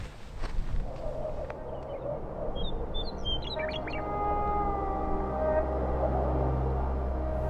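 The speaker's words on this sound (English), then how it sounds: "I can't figure out if that's just one bird that is following me or it's several birds" A single bird in the desert sends out a few short, high chirping calls from a distance, faint over a steady low wind or ambient rumble.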